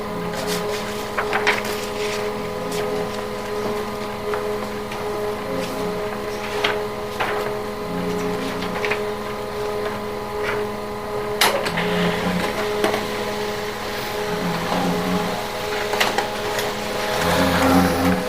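An offset printing machine runs through a job printing wedding invitation cards, giving a steady mechanical hum and drone with repeating rhythmic clatter and occasional sharper clicks, loud and close throughout.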